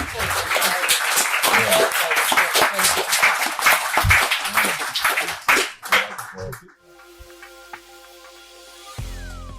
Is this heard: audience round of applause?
yes